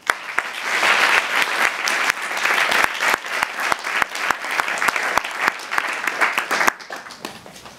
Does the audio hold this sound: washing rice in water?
no